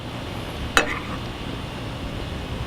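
Pork chops with mango and serrano sizzle softly in a pan, broken once by a brief clink of a utensil against the pan, with no talk.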